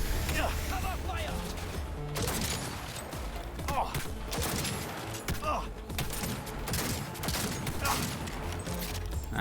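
Dense gunfire rattles through a Cyberpunk 2077 firefight: bursts of shots and impacts crowd together continuously under game noise, loud and close, with a voice calling out over the action.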